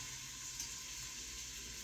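Beef roast pieces sizzle in hot oil in a pan, a steady close hiss and crackle with no talk.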